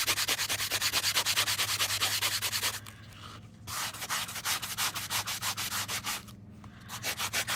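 Close, steady scratchy strokes of a small sanding block worked in circles on a metal-tape surface, rapid and rhythmic, broken by two short pauses before resuming.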